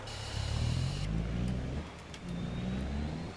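A semi truck's engine in Farming Simulator 25 drones close and loud, its pitch climbing as it revs, easing off, then building again, with no speech.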